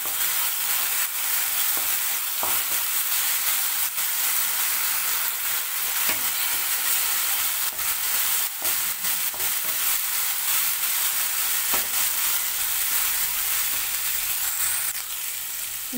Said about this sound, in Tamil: இஞ்சி பூண்டு விழுகு சேர்த்தாச்சு, சேர்த்தாச்சு நல்லா வதக்கி விட்டுடலாம்.